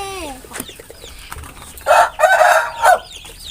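Chickens and ducks in a farmyard in the morning: close, loud clucking and a rooster-like call, with bursts of fowl cries rising near the end over a quiet background.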